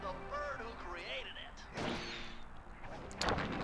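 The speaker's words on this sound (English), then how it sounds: "Those fireworks aren't entirely necessary" Fireworks burst in the Sly Cooper video game, a series of loud cracking blasts and crashes spread over a few seconds, mixed with game sound effects and background music.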